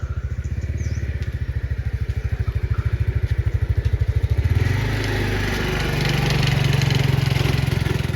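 A motorbike engine in a Thai village, chugging with a rapid, even pulse close by as it rides slowly behind cattle, the note shifting midway as the revs rise and settle.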